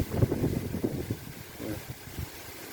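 Gusty summer wind buffets the microphone outdoors in Surin, Thailand, a rough low rumble that swells and eases in uneven surges throughout.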